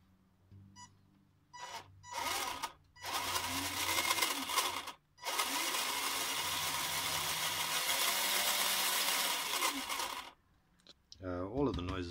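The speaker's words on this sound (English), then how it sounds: "All of the noises from my motor tranny setup, actually, which is interesting." A motor and transmission setup driving the Ossum Differential Mk III runs in several bursts, a loud whirring, rattling mechanical whine that starts and stops, then holds steady for several seconds before cutting off.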